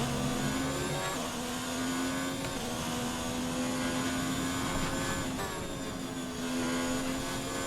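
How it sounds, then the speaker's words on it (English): Ferrari F1 car engine in the F1 2019 racing game, Belgium circuit, a steady close high-pitched drone with the throttle eased and feathered, pitch wavering and dipping briefly a few times. "You hear me feathering the gas into there?"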